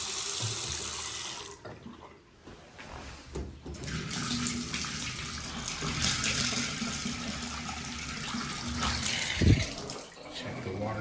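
Running water from a tap in a normal-sized bathroom, a steady moderate hiss with a modest flow that holds for several seconds, with a brief knock near the end.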